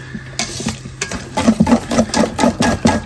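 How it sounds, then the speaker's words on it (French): Duchess potato mixture being stirred and mixed in a bowl, heard close up. Thick, sticky scraping strokes repeat in an uneven rhythm, loud and up front, with no talking. "Et là vraiment, on va bien mélanger notre préparation"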